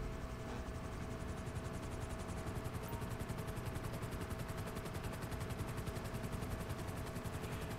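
Sparrow helicopter in GTA 5 Online, rotor chopping in a fast, steady rhythm with a dense engine whine, close and constant throughout with no talking.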